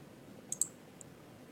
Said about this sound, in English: So we just click on this and we hit delete.